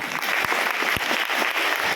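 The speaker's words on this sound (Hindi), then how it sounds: "जोरदार ताली होनी चाहिए।" Audience applause at an AWPL direct-selling recognition programme, a steady dense clapping from a large crowd that fills the whole moment, fairly loud and even with a couple of sharper accents.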